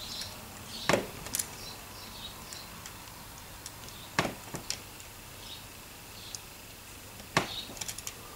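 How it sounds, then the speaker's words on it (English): A knife trimming the ends off a small wooden piece for a model train Warren truss bridge, giving a few sharp, quiet clicks and snaps spaced several seconds apart in an otherwise hushed room. "get a knife, just cut the ends off"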